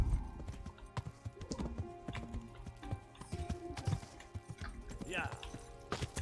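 Horse hooves clip-clop at a steady gallop in Kingdom Come: Deliverance, a quick rhythmic stream of close thuds with a brief whinny, while someone talks over them.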